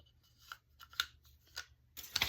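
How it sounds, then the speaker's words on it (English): A pair of scissors handled and set aside at a craft table while making a junk journal from an old book cover, with several short clicks and rustles and a louder clatter at the end. "let me put up this pair of scissors"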